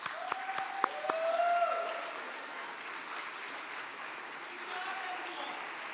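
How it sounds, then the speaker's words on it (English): Audience applause at an end-of-year school convocation, a few sharp claps at first, then a steady, faint wash of clapping beneath a thin whistle-like tone and some voices. "you owe all of each other a big round of applause"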